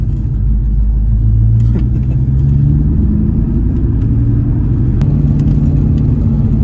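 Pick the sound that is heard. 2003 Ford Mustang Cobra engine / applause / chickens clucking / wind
2003 Ford Mustang Cobra engine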